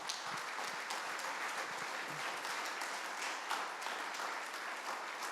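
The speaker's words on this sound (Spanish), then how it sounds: "Un aplauso" A church congregation applauds during a Spanish-language sermon, a soft, distant and continuous patter of many hands with no talking.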